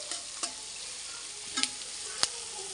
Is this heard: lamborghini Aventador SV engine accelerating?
no